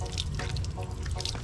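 Water runs steadily from the spigot of a homemade 55-gallon rain barrel collecting roof runoff as hands are washed beneath it, a continuous close splashing and dripping stream with faint voices underneath.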